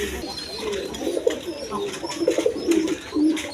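A pair of large, colourful domestic pigeons in a loft, including red ones, giving soft, low, burbling coos close by while someone talks over them.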